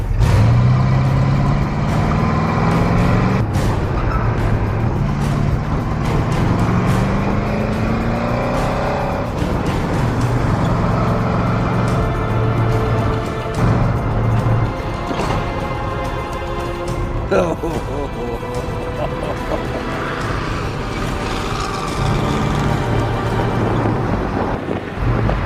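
A 1985 C4 Corvette-kart tows an unpinned trailer through an autocross run, its engine droning loud and steady with rising and falling revs, wind buffeting the mic and a voice briefly heard.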